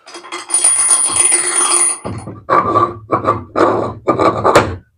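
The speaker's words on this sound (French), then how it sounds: "Voilà, je mets un écrou, une rondelle." Metal nut and washer fitted onto a plate for a solar panel turntable: a scraping rasp at first, then a series of short, close metallic clicks and scrapes in an irregular rhythm, with no talking.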